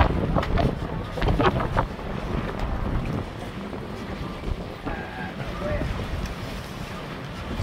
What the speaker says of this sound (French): Il y a du bon vent, il y a du bon vent.